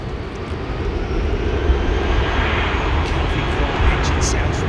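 Airplane engines roar at London Heathrow Airport in a loud, steady, broadband drone that holds constant throughout, with a faint voice murmuring underneath.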